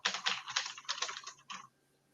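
Typing on a computer keyboard, a quick run of soft, close key clicks in small clusters that stops abruptly partway through, with a quiet room otherwise.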